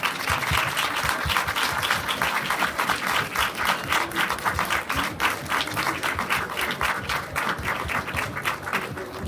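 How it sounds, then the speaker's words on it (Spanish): An audience applauds Nelly Vargas at an emotional rehabilitation talk, a dense, sustained wash of many hands clapping at steady loudness throughout. "quisiera pedirles un aplauso energético para Nelly Vargas"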